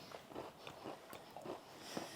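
Someone bites and chews a crunchy Polish chocolate biscuit up close, producing a series of quiet, rhythmic crunches about every half second.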